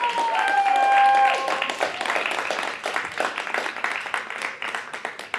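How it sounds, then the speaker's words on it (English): A live audience at a stage event breaks into applause, dense clapping at first with a rising whoop, then thinning into scattered claps as it fades. "Give him a round of applause,"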